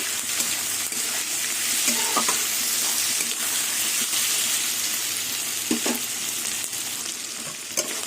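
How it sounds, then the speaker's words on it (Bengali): Shrimp and onions fry in a pan with a constant close-up sizzle, broken by occasional stirring scrapes and small pops. "এবার এই পেঁয়াজের মধ্যে আমি চিংড়ি মাছ দিয়ে দেবো চিংড়ি মাছ পেঁয়াজ ভালো করে ভেজে নেব"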